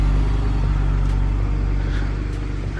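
A BMW car's engine rumbles loud and close as it is pulled out, a deep steady drone with low throbbing that holds throughout, with no talk.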